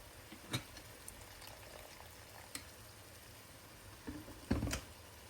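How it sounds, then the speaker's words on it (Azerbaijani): Boiling water pours onto tomatoes frying in a pan, coming through as a faint, low hiss with a couple of soft splashes near the end, quiet and close with no talking. "üzərinə biraz qaynanmış qaynar su əlavə edəcəm"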